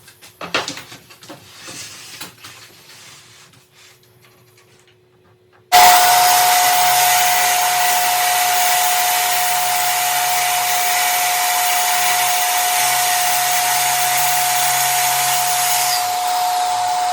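A track saw cuts plywood carcass parts to length: light handling clicks and a quiet shop, then the motor snaps on loud and close with a steady high whine and rushing cut noise for about eleven seconds before easing off.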